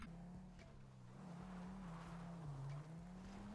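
A car engine drones steadily as the vehicle drives through a zombie apocalypse in GTA 5, with faint tyre noise and the revs rising and dipping slightly, heard alone with no talk.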